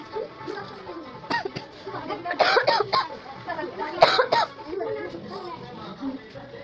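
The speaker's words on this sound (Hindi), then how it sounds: "मुझे खांसी बहुत बुरी हो रखी है, तो मेरी खांसी को ध्यान मत दीजिएगा" A person with a bad cough coughs several times in harsh bursts, with children's voices and chatter in the background of a home gathering for a kanya puja.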